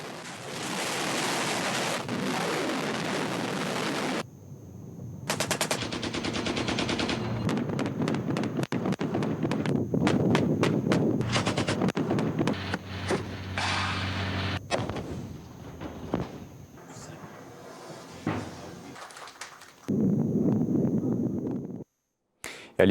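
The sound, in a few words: gunfire and explosions at a military live-fire exercise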